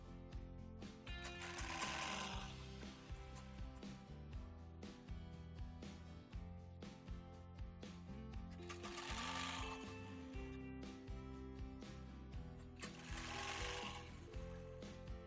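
A sewing machine stitches steadily through a crochet headband, a continuous rapid mechanical chatter with rhythmic clicking that swells louder in a few passes.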